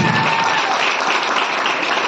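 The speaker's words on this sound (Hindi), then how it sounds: "आप लोग एक बार जोरदार ताली बजाकर इसका इजहार करें" Loud, dense applause from an audience at a teacher's birthday celebration, a continuous wash of many hands clapping at once, steady and close throughout with no pauses.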